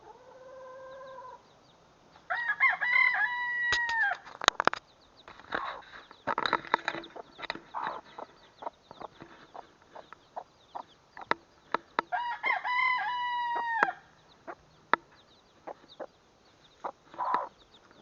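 A hen clucks among newly hatched chicks that cheep and peck nearby, with repeated close calls in clusters and scattered pecking and scratching clicks.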